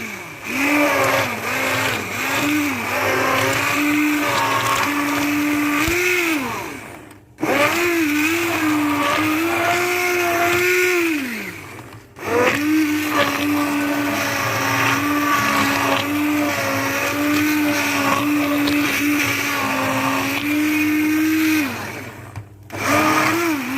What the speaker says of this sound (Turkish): Ve şimdi güzelce çırpıyoruz.